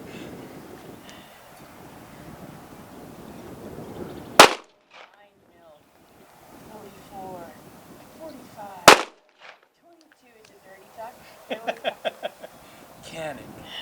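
Two sharp, loud pistol shots from a Guardian 6 defensive pistol, several seconds apart, with quieter talk between them and a short burst of clicks near the end.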